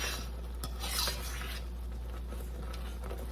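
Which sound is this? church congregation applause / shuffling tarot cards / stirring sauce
stirring sauce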